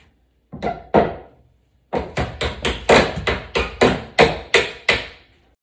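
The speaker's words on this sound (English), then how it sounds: "use a hammer to tap down each pin" A dozen sharp metallic hammer taps on door hinge pins, two quick ones then a steady run of evenly spaced blows, close and loud with no talking.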